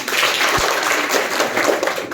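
A classroom group claps together in a brief, dense burst of applause lasting about two seconds, steady and fairly loud throughout.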